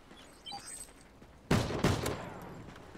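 Gunfire in the video game Call of Duty: Ghosts, a couple of sharp bursts after faint quiet background, fairly near and loud against the otherwise low level.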